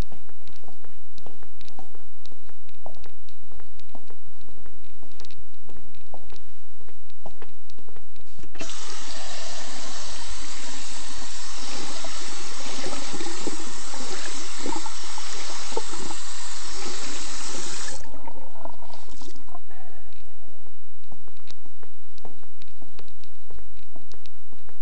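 Water runs from a tap in a lecture room for about ten seconds, a steady loud rushing stream that starts and stops abruptly, with faint handling noises and background hum around it.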